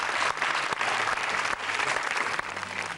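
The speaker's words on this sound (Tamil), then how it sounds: "கைதட்டுங்க." A studio audience at a televised kids' show claps together in a brief burst of steady applause, with a few louder individual claps standing out near the microphone.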